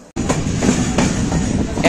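A Purba Express (12304) passenger train runs on rails on the Delhi to Howrah route near Jamui station, giving a loud, close, steady rumble with faint repeating wheel clacks throughout after a brief quiet start.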